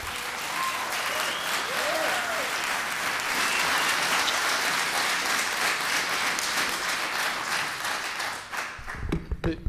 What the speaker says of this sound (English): let me ask those in the audience to refrain from clapping